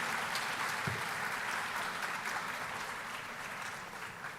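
Audience applause at a memorial lecture for the Director General of Ghana's National Communications Authority, a soft, even patter of many hands heard from a distance, fading slightly toward the end.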